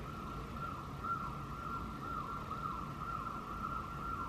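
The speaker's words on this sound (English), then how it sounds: "It's the most annoying alarm I've ever heard." A continuous warbling alarm tone wails steadily in the distance, faint and unchanging, over a low hiss of background noise.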